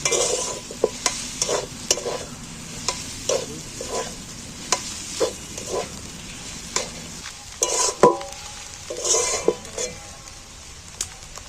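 Fish coated in masala spices fries in a pan with a steady sizzle, broken by repeated scraping stirs and occasional clinks of a utensil against the metal, close and fairly loud, with no talking.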